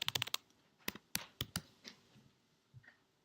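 Keys clatter on a computer keyboard in a lecture setting, quick bursts of clicks followed by a few scattered taps, close and fairly quiet.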